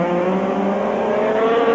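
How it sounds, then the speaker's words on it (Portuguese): Jacques Laffite's Formula 1 race car at the Portuguese Grand Prix rejoining the track from the pits, a loud, steady engine drone held close and alone without a break. "Aí o carro de Jacques Lafitte voltando à pista"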